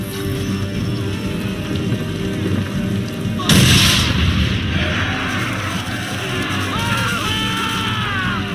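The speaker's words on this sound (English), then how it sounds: "Now give the swivel guns a turn. More precise. Hit those old powder barrels and light up the sky." Swivel guns aboard a ship in Assassin's Creed III striking powder barrels set off a loud booming explosion midway, followed by crashing debris and shouts over steady background noise.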